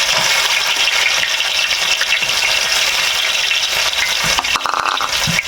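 Coconut pieces and cumin are stirred in a hot pan for a clam meat curry. A loud, continuous sizzle mixes with scraping stirs throughout, with no talking.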